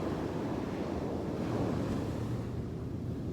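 Ocean surf washing steadily along the waterfront in Fort Lauderdale, a continuous broadband rush with wind buffeting the microphone and no voices.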